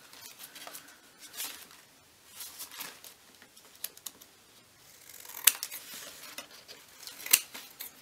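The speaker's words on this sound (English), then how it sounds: "Getting a bit snap happy with these scissors all the" Scissors snipping paper while making a journal, a series of sharp isolated snips spaced a second or two apart, close and fairly quiet, with soft paper handling rustles between.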